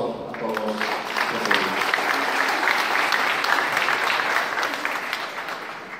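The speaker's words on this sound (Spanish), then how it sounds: "Aquí les pido por favor un voto de aplauso a todos" Warm applause rises from the audience at a university tourism forum, a full crackle of many hands swelling and holding for several seconds before easing off, with faint voices mixed in underneath.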